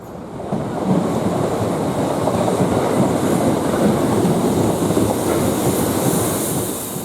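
Class 377 electric multiple unit train passing close by, a loud steady roar of wheels on rail with faint clickety-clack rising in after the first half second and holding for several seconds.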